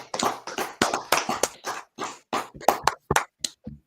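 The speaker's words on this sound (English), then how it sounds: "Clap it up." People clapping at a gathering, a string of sharp, close hand claps falling in an uneven rhythm with brief gaps between bursts.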